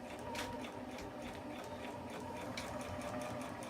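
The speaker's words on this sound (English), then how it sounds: "We're sewing the pieces together. Just sewing the front and the back pieces together." A sewing machine joins the front and back pieces of a Halloween prop, a continuous close, even mechanical whir with fast needle chatter and no breaks or speech.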